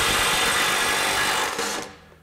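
A Ridgid R96021 cordless impact driver runs in reverse, a loud, dense whirring buzz close by for about two seconds before winding down.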